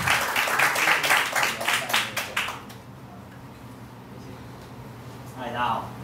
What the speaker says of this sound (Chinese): 掌声欢迎齐安。